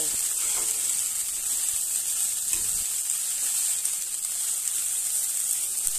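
Potato, carrot and drained flattened rice (chira) frying and being stirred in a pan, a steady close sizzle with a constant hissy wash and occasional soft scrapes, no voices.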